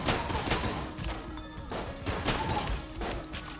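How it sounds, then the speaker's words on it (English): Shock rifle fire in the Enter the Gungeon video game: a rapid series of crackling, crashing bursts in uneven clusters that fill the whole stretch, loud and close, with no voices. "I got the shock rifle out, so let's use it."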